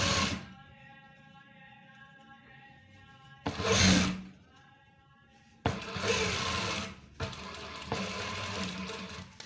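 A sewing machine stitches a zip seam on police-uniform trousers, running in several short bursts with a humming whir and quiet pauses between runs.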